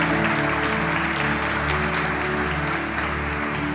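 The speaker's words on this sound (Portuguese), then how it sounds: "Você pode aplaudir Jesus e tomar posse disso?" A church congregation applauds, sustained dense clapping from a large crowd in a reverberant hall with a steady level throughout.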